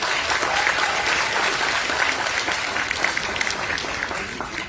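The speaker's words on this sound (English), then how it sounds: "A huge round of applause for all the parents of DPS batch 2022." An audience applauds the parents at a school batch graduation ceremony, with sustained dense clapping filling the hall, loud and even throughout and no speech over it.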